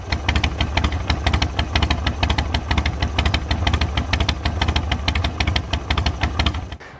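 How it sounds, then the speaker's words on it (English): A 2.5-liter four-cylinder bike engine idles steadily, with a fast, even pulsing throb that stays loud and close throughout before cutting off abruptly at the very end. "when you turn this bike on and watch the way that the motor shakes the entire front end"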